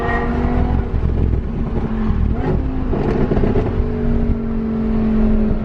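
A Koenigsegg with about 1,380 horsepower accelerates hard at full throttle, a loud, steady engine roar with rising harmonic tones sustained throughout, heard from nearby amid road noise.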